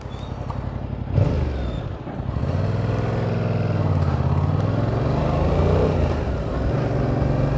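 A Yamaha Tracer 700 motorcycle engine runs steadily up close, its pitch rising and falling as the rider shifts through gears, with a brief thump early on.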